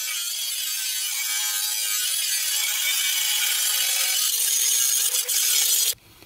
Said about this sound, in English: hit it with the grinder, take down the high spots, and then do it again